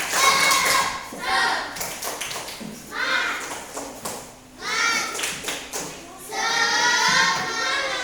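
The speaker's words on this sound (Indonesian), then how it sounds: "Tepuk semangat." A group, apparently schoolchildren in a classroom, claps in a spirited rhythm, with bursts of patterned clapping separated by brief pauses and loud throughout, mixed with children's voices.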